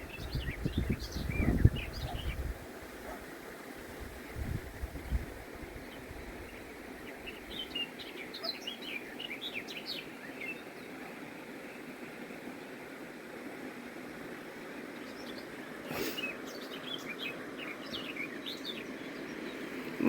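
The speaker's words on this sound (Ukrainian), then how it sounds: "Тільки що так гарно співала, тільки я достала телефон так" Faint, scattered bird chirps come from outdoors near the Ros river in Bohuslav, Ukraine, over a low, steady engine-like hum, with a few louder handling bumps.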